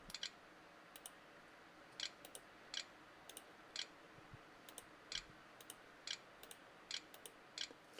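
Keys pressed one at a time on the built-in keyboard of an Acer Aspire E5-411 laptop with an Intel Celeron board, giving sharp, faint clicks in an irregular steady rhythm over a quiet background hum.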